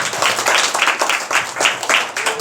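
A congregation at a Christian worship service claps hands in a quick, steady rhythm, loud and close, with regular beats throughout.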